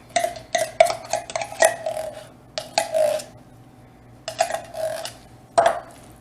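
Pumpkin being mixed into cake mix batter in a bowl, repeated scraping and clinking strokes of a utensil against the bowl in uneven bursts, with short pauses between, no talking.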